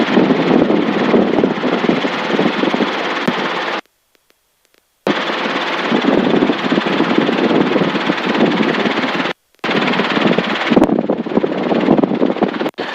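Loud, continuous Robinson R22 helicopter rotor thumping and engine drone during a training flight, interrupted by two brief silent gaps before resuming.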